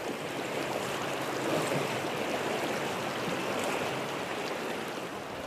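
Swift-flowing river tributary rushing as someone crosses it on foot, a dense, continuous broadband roar of moving water, steady and fairly close, with no voices.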